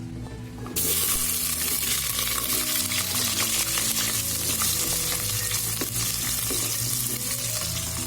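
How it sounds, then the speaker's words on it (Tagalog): Potatoes stir-fried in hot oil in a pot: after a brief quiet moment, a loud, steady sizzle bursts in and continues with faint stirring clatter throughout. "Una ay i-stir fry ko muna yung patatas."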